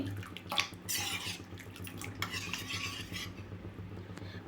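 A Karachi halwa mixture is stirred in a pan, with a spoon scraping and clinking against the metal in repeated strokes and soft sticky squelches between them, close up, with no talking.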